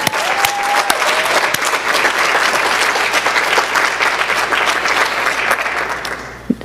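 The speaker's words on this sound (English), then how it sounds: "Or you can just stand and we can all clap for you." Steady audience applause at a high school academic achievement awards ceremony, a full room clapping continuously and loudly for a student being recognised, tapering slightly near the end.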